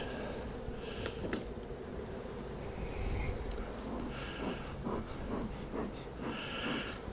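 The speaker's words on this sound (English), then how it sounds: "Plenty of bees in this coming hive." A steady, dense buzz of many honeybees around a hive close by, continuous throughout with slight swells in intensity and no voices.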